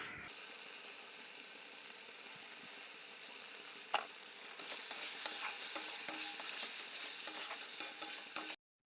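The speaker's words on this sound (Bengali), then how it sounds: "তো চলো মাংসটা কষিয়ে নিই" Meat and spice masala sizzle in a pan, stirred with a utensil in quick scraping and clattering strokes. The frying grows louder partway through, with a couple of sharp knocks against the pan, close by and with no talk.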